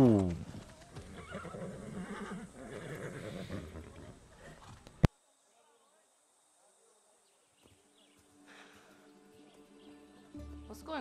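A horse whinnies amid busy game music and hoofbeats in the video game Far Cry 6, then a sharp cut to near silence before quieter ambient sounds and faint music return.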